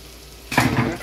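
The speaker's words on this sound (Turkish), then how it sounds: "Son kızartıyorum." Zucchini rings drop into hot oil for frying, giving a sudden close burst of sizzling with clattering of the pan that continues to the end.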